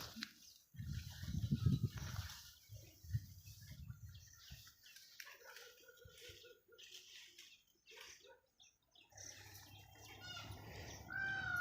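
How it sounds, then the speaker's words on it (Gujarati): A peacock calls on a farm field. The faint, distant cries are mixed with soft people's voices, low rumbling and a brief rising wail near the end. "મોર બોલે છે આવા."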